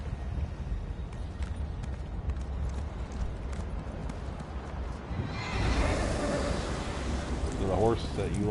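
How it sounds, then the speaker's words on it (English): In Elder Scrolls Online, a New Moon horse's steady hoofbeats run beneath constant game ambience, and a sharp whinny rises near the end. "So the horse that you like that I was riding is a Halloween special."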